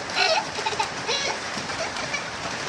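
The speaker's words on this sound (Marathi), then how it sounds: "खूप मोठा पाऊस आलेला आहे बघा पाऊस बघा बाहेर दाखवते तुम्हाला मी" Steady broadband rain hiss with splashing water, a continuous wash of downpour at moderate level, with a faint voice briefly audible near the start.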